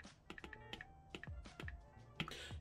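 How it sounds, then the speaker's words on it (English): Quick taps on an iPad touchscreen keyboard as Google is typed into a search box, a crisp irregular run of soft clicks, close and alone. "typing in Google,"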